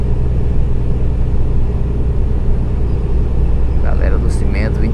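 Cement trucks rumbling along highway BR 153 near Paraíso, a loud, constant low engine and road drone from inside a vehicle, with someone talking over it toward the end.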